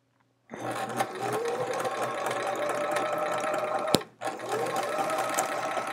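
A quilting sewing machine stitches half chevron pieces. Its rapid, even mechanical whirr starts up, runs continuously, stops briefly for a sharp click, then resumes at the same close, steady pace.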